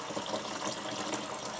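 A minnow bucket filling with water from a sink tap, a steady, close gushing rush of running water with no voices.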